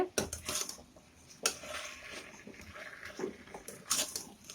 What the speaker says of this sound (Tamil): லைட்டாக அப்படியே கிளறி விடுங்க ரொம்ப ஹார்டாக ப்ரெஸ் பண்ணக்கூடாது